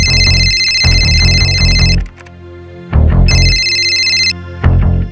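A telephone rings in two loud, close electronic bursts of warbling tones separated by a pause, with muffled background music underneath.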